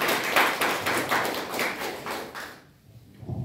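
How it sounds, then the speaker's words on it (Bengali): A small group of people clapping their hands together in a short burst of applause, steady and close for a few seconds before fading out. "হাততালি দিন একটা।"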